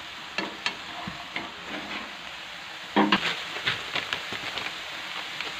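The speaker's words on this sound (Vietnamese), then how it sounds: "sẽ xào rang đều một lát cho cái nước này nó cạn" Small shrimp with lime leaves stir-fry in a pan until their liquid cooks off, giving a constant soft sizzle broken by scraping, clattering stirs of a utensil against the pan, close up with no talking.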